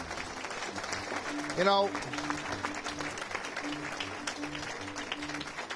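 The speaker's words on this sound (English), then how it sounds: "how about a nice round of applause for all of our speakers that are here?" Audience clapping at a Columbus Day community breakfast in Revere in 2012, a short burst of applause swelling briefly around someone speaking into a microphone, with talk continuing over the room.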